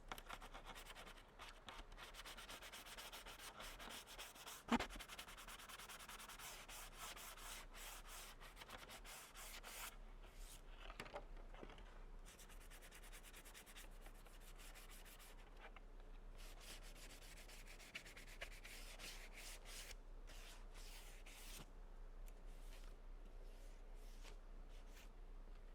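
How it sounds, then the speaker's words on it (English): Sandpaper rubbing along the edges of plastic stormtrooper armor pieces, a faint, close scratchy swishing in repeated back-and-forth strokes, with soft handling knocks between passes. "So we're going to sand those sides."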